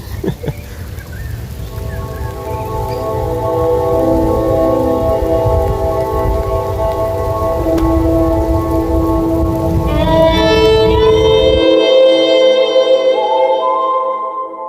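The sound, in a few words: rain falling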